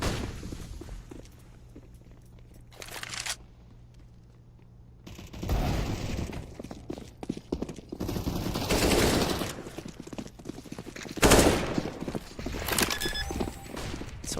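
Pistol gunfire in CS:GO during a competitive esports playoff match, with several shots and bursts of fire in the second half over a busy, noisy game mix that is quieter at first.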